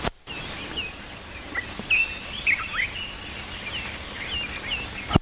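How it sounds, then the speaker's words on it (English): A morning chorus of scattered bird calls and chirps rings out over a steady bed of insect buzz on an African safari, outdoors and moderately distant, with no talking. "Just listen to this beautiful morning chorus of the birds"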